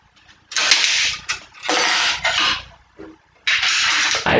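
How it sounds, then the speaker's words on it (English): A screwdriver drives screws back into a PC case during a work and gaming PC build, giving three loud, buzzy mechanical whirring bursts separated by short pauses, with no talking. "we need to screw in the other screws again as well"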